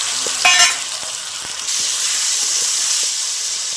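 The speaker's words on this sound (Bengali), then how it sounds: "তো ভালো করে মশলাটা কষে নেব" Spices with chicken for a matar ghugni, including garlic paste, ginger, cumin powder, chopped tomato, turmeric and salt, fry in a pan with a steady, close sizzle that swells briefly near the start.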